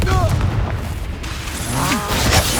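A Confringo spell explodes in Hogwarts Legacy, a loud booming blast amid game combat effects and chirping magical sweeps.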